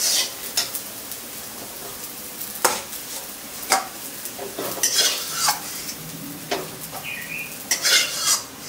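Fried onions scraped and lifted out of a hot pan with a metal spoon for a chicken kosha, giving scattered clinks and scrapes of utensil on metal over a faint, low sizzle of oil.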